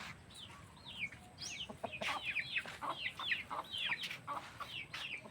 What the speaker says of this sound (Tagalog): Tapos may mga manok ko dire.